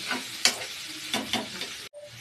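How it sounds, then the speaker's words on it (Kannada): Crushed garlic and tomatoes sautéing in oil, a soft sizzle broken by several scraping stirs of a spoon in the pan, fairly quiet and close, then a brief pause near the end. "ಚೆನ್ನಾಗಿ ಟೊಮೆಟೊ ಅದೆಲ್ಲ ಮಿಕ್ಸ್ ಮಾಡಿ ಚೆನ್ನಾಗಿ ಎಣ್ಣೆಯಲ್ಲಿ ಬಾಡಿಸಿ."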